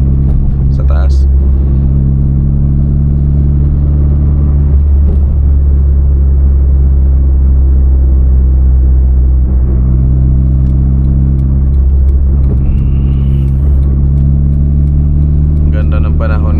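Road noise and steady engine drone from a Honda City Turbo cruising smoothly on an elevated Skyway expressway, low rumble constant throughout with slight swells, people talking over it inside the cabin.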